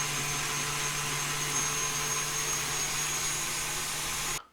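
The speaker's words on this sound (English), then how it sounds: "So we'll mix for high speed for a few minutes." A stand mixer whisks a three-ingredient strawberry ice cream mixture at high speed, a steady motor whir with a thin high whine, continuous and fairly close, stopping abruptly at the end.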